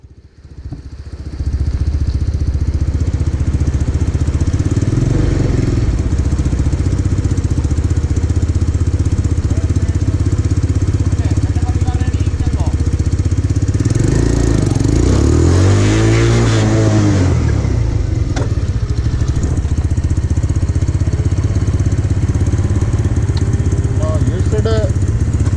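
Motorcycle ridden through a cone braking exercise during a licensing skills test in Illinois, its engine droning steadily and loud throughout, rising in a rev near the middle before settling, with wind noise over it.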